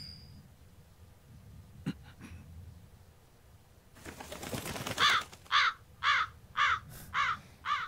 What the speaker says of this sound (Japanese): カラスがコインを加えていっちゃったよ。